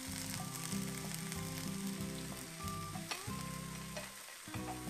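Green cardamom infusion poured into a hot pan of leeks and fennel sizzles loudly and steadily at close range, with occasional stirring clatter and no talking.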